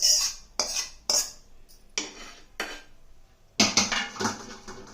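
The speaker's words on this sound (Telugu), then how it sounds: "పోసి చక్కగా కలిపేద్దాం" Cooled tempering is poured into a ripe red chilli and tomato chutney and mixed in, giving clattering spoon-on-bowl scrapes and knocks in bursts of several strokes. The sounds are close and fairly loud, with no talking.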